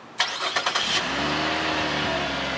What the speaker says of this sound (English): This car also has remote car starter,